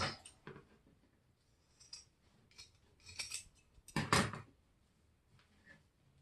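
Scissors snip through material while a scarecrow hat is cut for a wreath: a few close, crisp cutting bursts with short pauses between them, the loudest near the end, with no voices.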